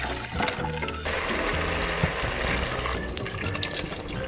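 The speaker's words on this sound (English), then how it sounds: "Now what we need to do is add a little bit of water." Water pours steadily from a tap into a jug while preparing a gluten-free winter soup, a close, continuous splashing gush that shifts in tone as the vessel fills.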